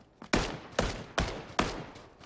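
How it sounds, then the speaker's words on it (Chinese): Gunfire in PUBG, four sharp, evenly spaced shots about half a second apart, each with a short ringing tail, fairly close and with no talk over them. "大哥，能不能不要开枪啊？"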